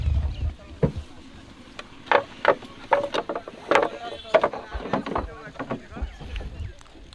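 A rowing boat setting off on a wetland bird-watching trip, oars knocking and creaking in an irregular rhythm with splashes nearby, under faint voices.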